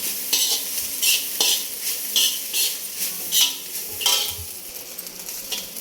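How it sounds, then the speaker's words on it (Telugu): Cooked rice is stir-roasted in a pan with vegetables and salt for veg fried rice, with a steady sizzle broken by repeated scraping and tossing strokes of a spatula about once a second, close and clear. "ఇవన్నీ బాగా కలిసేలా రోస్ట్ చేసుకోవాలండి రైస్."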